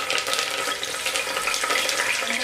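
Cumin, mustard seeds and curry leaves sizzling in hot oil in a kadhai, a steady bright crackling hiss heard alone and close.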